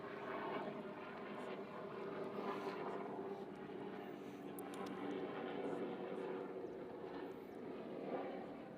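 A helicopter flies overhead near the erupting Kilauea volcano in Hawaii, its steady engine and rotor drone faint and distant, holding even for several seconds with no talk.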